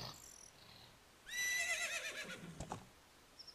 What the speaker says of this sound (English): You're quite a wild horse, you know that?